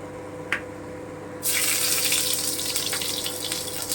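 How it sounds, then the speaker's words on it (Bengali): Crushed garlic hits hot mustard oil in a pan, and a loud, steady sizzling hiss bursts in partway through and holds to the end after a quiet start with one small tap. "তেলটা আমার গরম হয়ে গেছে এবারে আমি রসুন থেতোটা দিয়ে দিচ্ছি"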